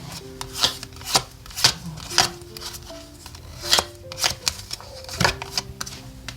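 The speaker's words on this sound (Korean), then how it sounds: "근데 백카드에 추가 카드 2장 볼게요." Tarot cards are shuffled to draw two extra cards, giving a run of irregular papery swishes and slaps, close and moderately loud, with faint background tones beneath.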